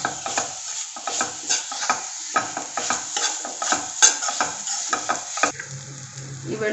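A cup of grated coconut stir-fried in a pan, soft sizzling under repeated scraping and clinking of a spoon against the metal, close by.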